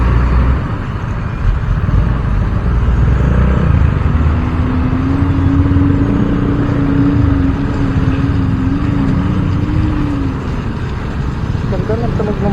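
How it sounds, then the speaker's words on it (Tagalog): A motorcycle engine runs steadily close by on a commute to Bulacan, a smooth sustained hum with a brief rising tone in the middle, under constant road noise. "Ganda ng tunog ng motor na ano lang, parang pinong-pino yung tunog."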